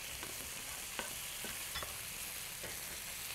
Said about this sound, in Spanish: Simplemente se está friendo en el aceite de oliva con la cebolla y el ajo.